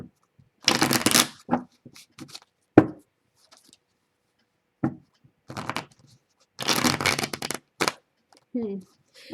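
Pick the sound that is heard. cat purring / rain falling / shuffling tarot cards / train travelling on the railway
shuffling tarot cards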